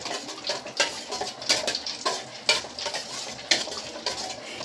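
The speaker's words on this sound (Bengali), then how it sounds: "এবার এগুলোকে আমি একটু ভালো করে ভেজে নেব তেলে" Whole spices frying in oil in a pan, a soft sizzle under repeated close scrapes and clinks of a stirring spoon at an irregular pace.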